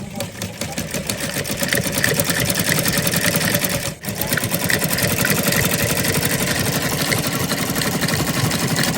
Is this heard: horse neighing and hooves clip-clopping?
no